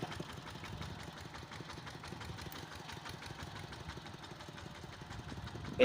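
A motorbike engine idles close by on a rural village road in Laos, a steady low chugging putter that holds even throughout, with no one talking.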